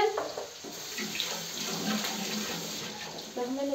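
Tap water runs steadily into a kitchen sink while rice is washed, a close, continuous gushing stream with faint shifts as the grains are stirred under it.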